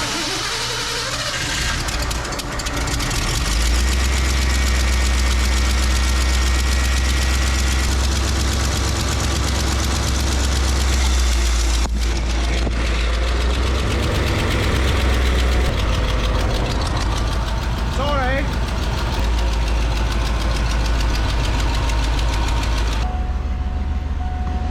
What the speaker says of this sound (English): The truck's idling good.